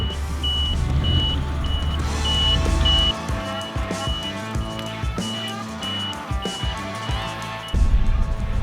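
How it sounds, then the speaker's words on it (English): A truck drives close by outdoors and reverses, a rumbling engine with a steady chain of reversing beeps over it. "Stop recording the truck."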